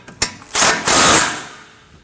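A nut on the front steering knuckle of a 2011-2016 Kia Optima is snugged down, giving a close, loud burst: a sharp click, then a longer grinding mechanical run that fades away.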